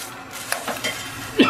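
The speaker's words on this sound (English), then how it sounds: "let's just drop that thing into the frying pan." Eggplant dropped into a hot frying pan for a garlic-sauce dish, giving a brief clatter and a sudden burst of sizzle near the end after quieter stirring and pan noises.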